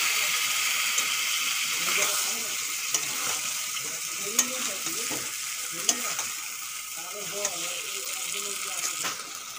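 Bottle gourd and potatoes stir-fry with spices and fried coconut in a pan, a steady sizzle broken by repeated scraping stirs of a spatula and occasional clanks, with a voice speaking under it.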